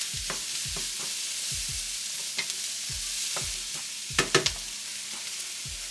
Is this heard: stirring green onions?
yes